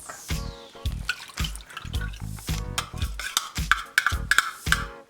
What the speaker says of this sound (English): Now time to add the milk.